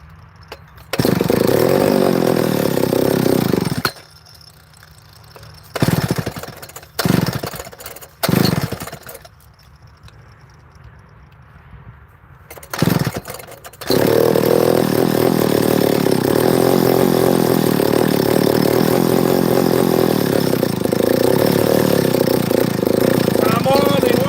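Close chainsaw engine struggling to idle: a loud drone cuts out, then sputters back in short uneven revving bursts and stalls, before settling into a sustained, steady run for the final ten seconds.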